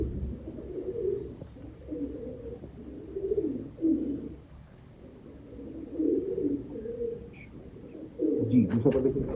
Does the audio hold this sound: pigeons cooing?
yes